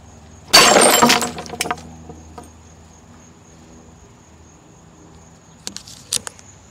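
Glass objects shatter loudly as an antler smashes into them, a dense burst of breaking glass followed by a few clinks and falling shards, then quiet with two brief clinking impacts later.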